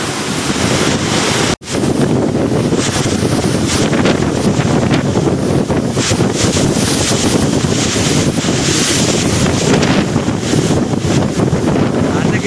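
Strong wind buffets the microphone in a loud, continuous roar, with gusty rumbling and a brief dropout near the start.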